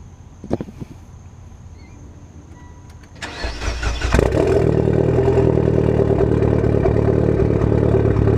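A Mitsubishi Evo X with an ETS exhaust cranks over after a few faint clicks, fires up with a rising roar and settles into a loud, steady, throbbing idle, close by.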